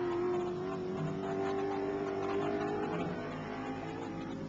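A 1983 touring race car at Donington accelerates past the pits, a close engine note rising in pitch for a few seconds before fading slightly as it moves away.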